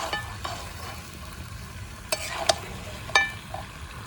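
Country chicken curry in a pan over an outdoor wood fire, stirred and frying with a soft, steady sizzle and a few sharp scraping clicks from the spoon, heard alone and fairly quiet.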